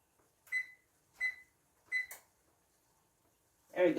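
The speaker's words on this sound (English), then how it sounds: "I set a timer for 15 minutes." A kitchen timer on a microwave or oven gives three short, evenly spaced electronic beeps, close and clear in a quiet kitchen, followed by a brief clatter at the end.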